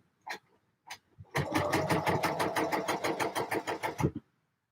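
A sewing machine stitching gable tops: a few isolated needle clicks, then a fast, even run of stitches for about three seconds that ends abruptly, close and clear, with no voices.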